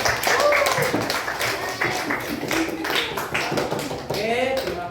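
Students clap together in a classroom at the end of a lesson, a dense run of sharp hand claps that stays busy and close throughout, with voices talking over it.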